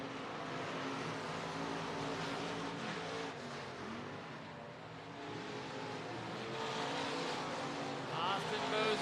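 Race cars circle the Boone Speedway track in Boone, Iowa, in the final laps of a race, a distant continuous engine roar rising and falling as they pass, under an announcer's steady commentary.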